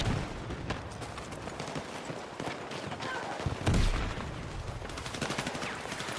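Video game gunfire in Battlefield 6, repeated rapid shots with a louder burst near the middle, set against busy battle noise and little talk.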